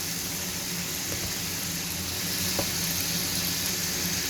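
Waffle batter, about three quarters of a cup of buttermilk waffle mix, poured onto a greased hot waffle iron: a steady close sizzle with a faint hiss that swells slightly halfway through, with no talking.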